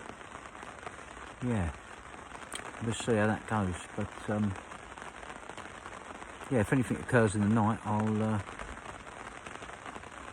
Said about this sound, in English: at the moment it's absolutely lashing down